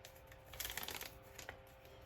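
Adhesive tape backing peeled off a roll for paper crafting, giving a soft crackling rip of about a second, fairly faint and close, with no talk.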